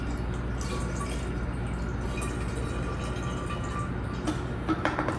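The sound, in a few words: water poured into a homebrew porter fermenter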